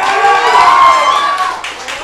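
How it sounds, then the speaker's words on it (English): Live podcast audience clapping and cheering in a vote for a best-of segment, a loud dense burst that fades over two seconds with voices mixed in. "Clap for best of."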